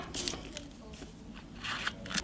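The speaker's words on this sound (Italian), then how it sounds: "e tagliamo le striscioline" Scissors snip through narrow strips cut from a cardboard toilet paper roll, giving several short, crisp crunching cuts in close succession at moderate loudness.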